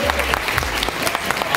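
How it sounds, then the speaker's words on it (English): Convention panel audience at a comic con applauding, steady dense clapping throughout with individual claps standing out close by. "Give a round of applause for Olivia."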